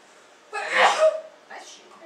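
A sharp, close sneeze bursts out during a math tutoring session on solving differential equations, followed a moment later by a softer, shorter vocal sound.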